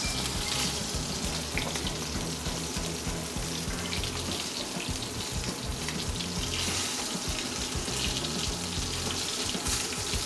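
Steak searing in a hot pan, cooked Greek style with salt, giving a steady, loud, dense sizzle and crackle throughout with no voices.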